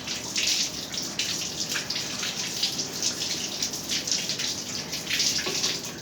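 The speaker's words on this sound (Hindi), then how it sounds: "इसको आप पानी में ऐसे करके इसको आप वॉश कर लें" A vegetable is rinsed in running water for salad preparation, with a steady splashing, trickling wash like a tap or sink filling, continuous and fairly close throughout, with no talking.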